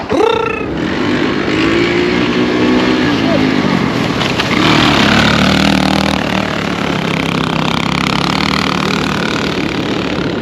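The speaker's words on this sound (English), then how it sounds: "You hit the gas until it goes wah, until it revs out." A Kawasaki Bayou 220 ATV engine revs up and holds a loud, steady mid-pitched drone through the whole stretch, with voices talking over it.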